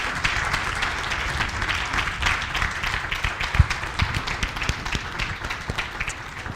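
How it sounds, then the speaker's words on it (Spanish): A church congregation claps in praise to God, many hands applauding steadily with a fairly rapid, slightly rhythmic patter, one louder clap standing out midway, moderately loud and continuous without speech. "Podemos brindarle un aplauso de alabanza aún a nuestro Dios."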